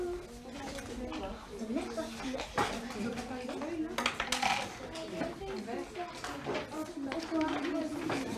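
Small pots in a seed-finding game have their little lids lifted and set down, giving scattered clinks and ceramic knocks close by, heard under ongoing speech from an adult and a child.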